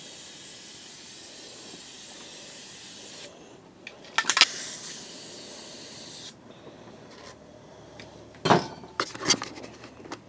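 Aerosol spray paint can hissing loudly in a long continuous burst, then shorter sprays, with rattling clinks of the can and metal ball in between, close by and with no talking.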